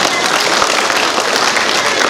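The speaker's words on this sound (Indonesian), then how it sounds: "Tepuk tangan." Applause from an audience at a regional work meeting and installation ceremony in Pematang Siantar: a steady wash of clapping from many hands, loud and even throughout.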